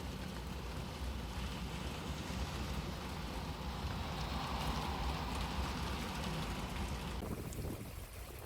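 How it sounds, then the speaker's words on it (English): Steady rain falls continuously, a dense even hiss with soft wind noise, close and alone with no voices, easing slightly near the end. "And I'm going to listen to that rain too"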